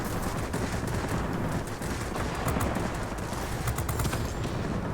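Aircraft machine guns on an F5F Skyrocket in World of Warplanes rattle in a dense, sustained stream, steady and loud throughout.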